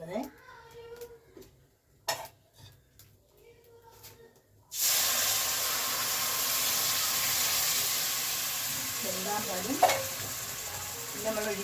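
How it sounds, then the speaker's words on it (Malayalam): Coconut milk is poured into semolina roasting in hot ghee, setting off a sudden loud, steady sizzling hiss that lasts to the end, after a stretch of quiet talking and stirring. "ഇനി നമുക്കതിലേക്ക് തേങ്ങാപ്പാൽ 2ാം പാലാണ് ഒഴിക്കുന്നത്."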